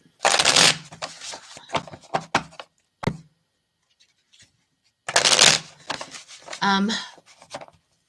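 Playing cards shuffled in two bursts, a riffle and bridge near the start and again later, crisp and close, separated by a few sharp taps and a quiet gap.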